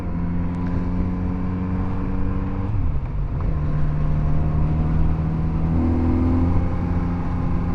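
A Kawasaki Z900RS motorcycle on a test ride pulls away under acceleration, its engine a steady, loud droning hum with a brief dip near the midpoint as it shifts, then rising again.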